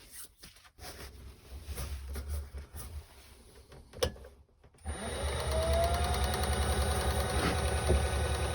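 Woodturning tool being sharpened on a running grinder in a workshop, a steady motor drone with a brief scraping contact that sets in and holds loud after a short pause.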